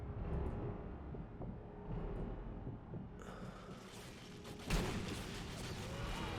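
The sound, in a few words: video game gunshot and explosion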